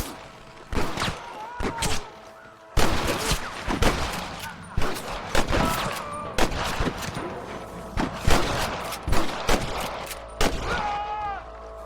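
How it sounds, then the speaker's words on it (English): Gunfire in the video game Red Dead Redemption, a chaotic fusillade of loud overlapping shots with sharp cracks and ricochet whines, bursts coming in rapid irregular clusters throughout. "I can hear more gunshots."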